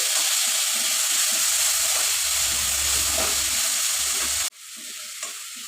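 Red lentils (masoor dal) frying in a pan with onion, ginger, garlic and chilli: loud, steady hissing sizzle with stirring scrapes, then an abrupt drop to a quieter sizzle near the end.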